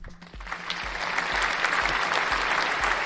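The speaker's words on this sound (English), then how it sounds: "Round of applause for you guys" Applause from an audience swells and holds steady during a live trading session stream, with a soft rhythmic low thump running underneath.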